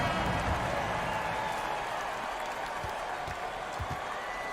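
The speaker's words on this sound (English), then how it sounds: "Fans, please give a big round of applause for your Raptors." A crowd applauds the Raptors in a basketball video game, a dense steady wash of clapping and arena noise that holds at an even level throughout, with a few low thumps underneath.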